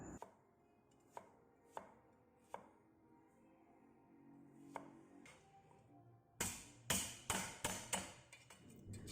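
A knife slices lettuce on a cutting board, starting with sparse, evenly spaced chops that give way to a quick, louder burst of cuts near the end; nothing else is heard.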